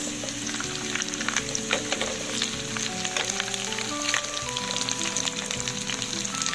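Two slices of fried tilapia go into a pan of Ilocano-style sautéed mung bean stew, which sizzles and crackles steadily and loudly up close, with faint stirring and no talk.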